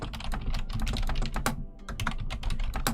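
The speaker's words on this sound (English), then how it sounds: "Don't mind me typing." Steady, fast typing on a computer keyboard at an office workstation, with dense clicking keystrokes close by and no pauses.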